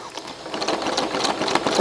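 A Janome sewing machine stitches steadily in free motion quilting with the needle-down setting on, giving a continuous close whirring run.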